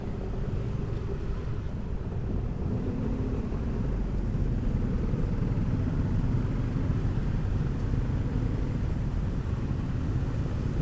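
Steady low rumble of traffic-jammed road noise heard from a Yamaha Nmax 155 scooter, a continuous engine and road drone without clear peaks or speech.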